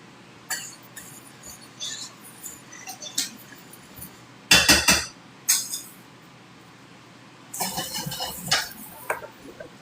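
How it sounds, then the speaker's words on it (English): A spoon stirs a vegan oxtail stew in a metal pot, giving scattered clinks and scrapes with a few louder bursts of clattering, close up against a quiet kitchen background. "Gonna stir this up."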